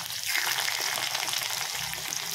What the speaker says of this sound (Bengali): এবার এই তেলের মধ্যে একটা একটা করে আলু ছেড়ে দেবো।